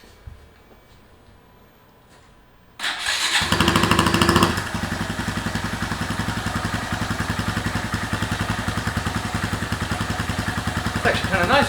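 A Honda Grom motorcycle engine fitted with a Tyga high mount exhaust with the baffle in starts up, revs briefly, then settles into a loud, steady, throaty idle with rapid even exhaust pulses, close by.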